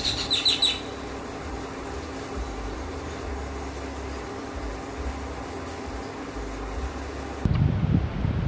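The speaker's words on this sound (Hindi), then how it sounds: "मैना, मैना, इसे हिंदी में भी मैना ही कहते हैं।" A myna bird gives a brief burst of high, rapid chirps at the start, then steady fan-like background noise fills the rest.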